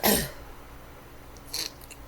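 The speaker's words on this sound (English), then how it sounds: "Dry cough." A single dry cough from a congested person sounds sharply at the start, followed by quiet and a fainter second burst of breath or throat noise.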